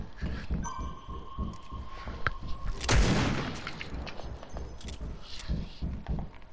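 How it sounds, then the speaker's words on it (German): A loud burst of gunfire around the middle, with quieter rapid shots and footstep-like thuds throughout, set against a busy Fortnite game soundscape. "Das ist so laut, die Schüsse."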